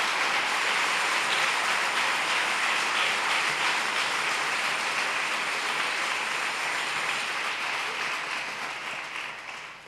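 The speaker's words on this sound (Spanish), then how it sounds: "Dele esa ofrenda de palmas, hermano, pero con fuerza" A church congregation claps hands vigorously together as an offering of applause, a dense, steady roar of many palms that holds loud throughout and tapers slightly at the end.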